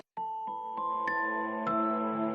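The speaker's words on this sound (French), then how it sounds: "Les cloches de l'église Saint-Julien se sont mises à sonner." The bells of Saint-Julien church peal in the night, several clear ringing strikes overlapping into a sustained metallic resonance, with no voices.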